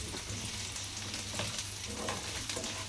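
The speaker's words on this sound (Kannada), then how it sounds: "ಪನ್ನೀರ್ ಫ್ರೈ ಆಗತ್ರಿ ಇಲ್ಲಿ" Paneer fries in a pan with turmeric, making a constant dense sizzle and light stirring scrapes, close and moderately loud with no talking.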